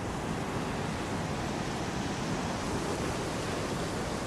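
Main channel of the Rancheria River in Alaska rushing past, a dense, constant roar of flowing water with no breaks, loud and steady throughout.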